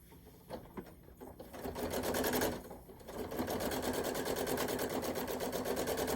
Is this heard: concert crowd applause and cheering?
no